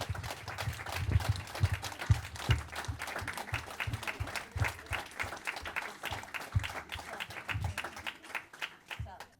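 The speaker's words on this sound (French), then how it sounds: "ils peuvent faire un gros applaudissement d'hommage aux accompagnants qui sont là" An audience gives a long round of applause in tribute to the carers at a civic gathering; the clapping is close and crackly, with a voice heard alongside, and it thins toward the end.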